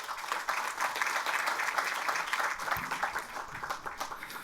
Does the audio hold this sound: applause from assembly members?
yes